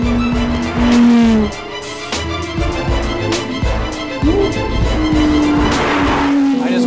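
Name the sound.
Porsche GT3 RS sports car driving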